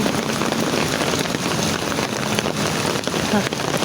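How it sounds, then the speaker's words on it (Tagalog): Heavy rain pours down steadily, a dense close hiss of drops drumming on surfaces throughout. "Malakas po ang ulan."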